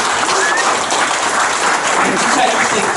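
Guests at a wedding ceremony applaud in a steady, dense wash of clapping, close and loud throughout, with no break or talking.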